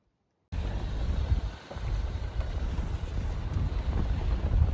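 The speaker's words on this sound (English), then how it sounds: "this site was very windy" Steady, roaring wind at a campsite in Utah buffets the microphone with low rumbling gusts, continuous and loud throughout, with no voices.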